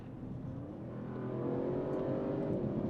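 A 2023 Audi RS7 Performance drives by with a low engine hum that climbs gradually in pitch and loudness, steady and moderately distant.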